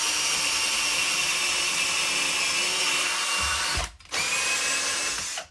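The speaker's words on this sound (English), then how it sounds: "So they all come with these cheap P drill bits, so officially they should be able to all drill that out easily." A cheap Amazon cordless drill with a spade bit bores through wood, a loud, close, steady whine-and-grind that cuts out for a moment, resumes, then stops just before the end.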